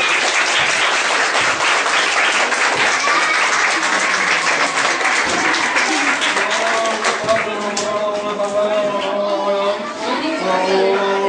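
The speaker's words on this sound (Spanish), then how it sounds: "Vamos a ver, un aplauso fuerte." An audience at a gathering breaks into loud, sustained applause, dense clapping filling the room for several seconds while voices and faint music rise underneath toward the end.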